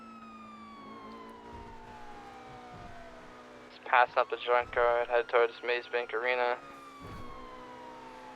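A police car siren in a roleplay video game gives a few seconds of rapid, warbling yelps partway through, over a low engine drone, while someone speaks on the radio before and after.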